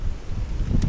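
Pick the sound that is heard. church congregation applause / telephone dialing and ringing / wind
wind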